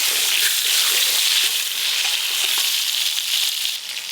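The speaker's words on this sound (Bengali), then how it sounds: "ওই তেলে লবণ হলুদ মাখানো পটলগুলো ভেজে নেব।" Pointed gourd coated in salt and turmeric frying in oil, a steady bright crackling sizzle that holds loud and close for the whole stretch, with no voices over it.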